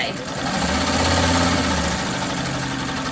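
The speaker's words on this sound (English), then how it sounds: "I'm going to sew right next to it." A sewing machine stitching quilting fabric scraps, a steady close mechanical whir and hum running continuously with faint talking underneath.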